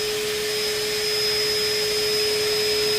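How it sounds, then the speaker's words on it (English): A steady, loud shop vacuum whine runs continuously at close range while drilling on a car during a Brembo brake install, with a constant tonal hum and no other sounds or voices. "I'm gonna be using a vacuum as I drill this out"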